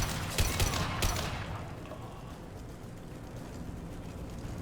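Bursts of gunfire from Blue Suns mercenaries and Vorcha in the Mass Effect 2 video game, with loud rapid volleys in the first second that give way to a lingering rumbling background.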